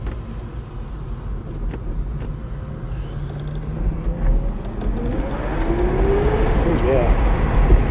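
A Dodge Charger Daytona EV pulls away at half throttle, its electric whine rising gradually in pitch and loudness over a steady road rumble, with people talking quietly in the background.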